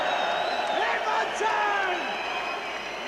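Thousands of boxing fans fill the arena at the Tszyu vs Hatton bout with sustained roaring, whoops and chants that stay loud and steady before easing slightly at the end.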